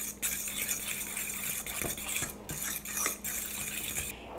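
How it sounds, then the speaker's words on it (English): Eggs being stirred into grated Parmesan cheese in a bowl for carbonara, giving a faint, continuous soft scraping and occasional light clinks of the utensil against the dish. "We're mixing the eggs in with our cheese. Just give it a stir."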